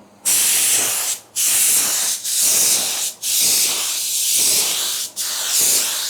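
Spray gun laying a pearl coat of automotive paint on a car, loud close hissing bursts of a few seconds each, separated by brief pauses as the trigger is released between passes.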